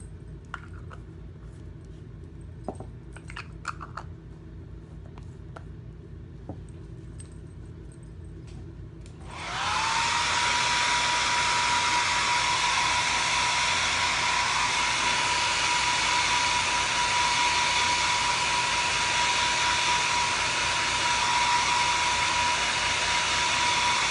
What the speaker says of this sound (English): And then I'll dry this side with my hairdryer as well.